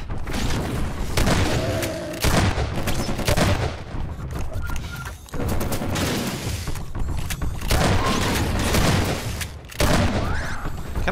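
Rapid gunfire and heavy booms in Half-Life 2 during a frantic defense of the White Forest silo, loud and near, with bursts of automatic fire and explosions running almost continuously, broken by a few brief lulls.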